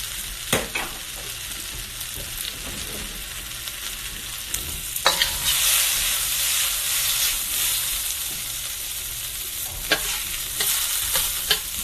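Peppers, onion and garlic fry in oil in a pan with a steady close sizzle, broken by sharp scrapes and clinks of stirring.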